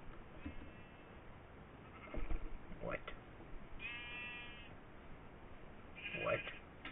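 Sheep in a modded Minecraft survival game give several short synthetic bleats, with a person speaking faintly between them over steady background hiss.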